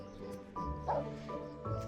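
A dog barks in the Animal Shelter Simulator 2 video game, a couple of short yips over faint background tones, with no one speaking.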